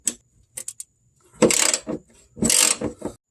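A ratchet wrench loosening the fuel tank bolts beneath a Chevy Cobalt, with a few quick light clicks followed by two longer bursts of rapid ratcheting, close up and without talk.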